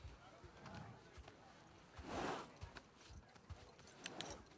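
Horse hooves in The Last of Us Part II clip-clop in an uneven rhythm at close range, with faint talk and a brief whoosh of noise partway through.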